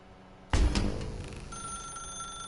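Telephone ringing in the video game The Stanley Parable, with a single loud ring bursting in after a quiet moment and then a sustained tone lingering to the end.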